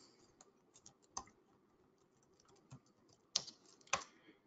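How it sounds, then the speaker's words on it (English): Keys clicking on a computer keyboard as an email address is typed, a quiet, irregular run of light taps with a few sharper strokes, heard alone in a still room. "you would type in your email address"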